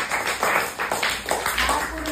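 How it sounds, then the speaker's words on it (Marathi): Classroom children clap together in rhythmic bursts, a soft, fairly close patter with a voice talking underneath. "मुबशीरसाठी टाळ्या वाजवा सगळ्यांनी."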